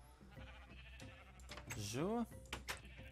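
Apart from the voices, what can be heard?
sheep bleating in the video game Minecraft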